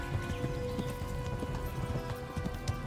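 Horse hooves galloping in the medieval video game Kingdom Come Deliverance, a steady patter of clip-clop beats over a constant bed of game ambience, moderately loud and without talk.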